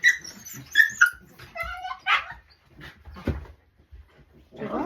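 A dog whimpers in short, high, thin whines right after someone falls on it, then goes quiet while people talk nearby indoors.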